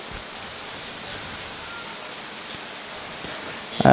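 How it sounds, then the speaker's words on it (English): Steady rain patters on a surface at an outdoor junior state bowls championship, a dense even hiss with a few louder drops and a brief knock at the end. "I can hear that rain through my earphones."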